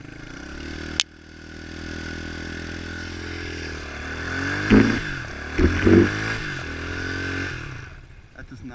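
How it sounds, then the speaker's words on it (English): Pit bike engine held at a steady drone for a fourth gear burnout attempt, rising slightly with a couple of brief scraping, clattering bursts midway, running continuously and fairly close. "Let's just do a big fourth gear burnout, because shit's in gear."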